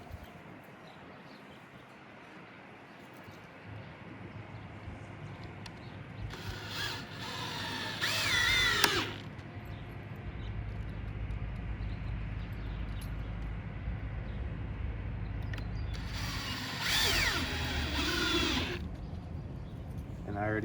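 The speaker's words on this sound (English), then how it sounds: "if I drill a pilot hole, it'll help the wood from splitting" A power drill bores a pilot hole into wood while a cold frame is being built, with two loud whirring bursts of a few seconds each rising over a steady background hum and quiet room noise.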